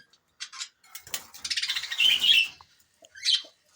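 Pet Japanese birds kept with chicks and nesting pairs give short, high chirps and tweets in scattered bursts, close and fairly quiet, with a busier cluster of calls in the middle and silence between.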